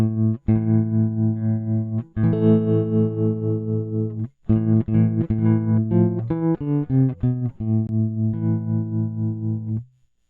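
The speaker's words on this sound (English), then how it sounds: "So I'll just play a few notes on the guitar." An electric guitar plays a string of sustained notes and quick runs through distortion and chorus effects, with brief pauses between phrases.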